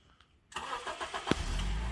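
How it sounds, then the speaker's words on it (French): A 2007 Honda Odyssey RB1 with a 2.4 VTEC engine starts by remote control: faint quiet, then a sudden crank, a catch and a steady close idle. "c'est une option d'origine qui permet de démarrer le véhicule à distance"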